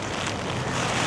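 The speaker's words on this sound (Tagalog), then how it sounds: "Ala, ang lakas ng hangin." Strong storm wind in Japan buffets the microphone in a loud, continuous roar with gusty swells, alone and without voices.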